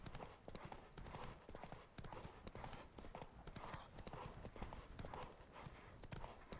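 Roach, the horse in The Witcher 3 video game, trots with an even, steady clip-clop of hooves, unbroken throughout over a dense game soundscape.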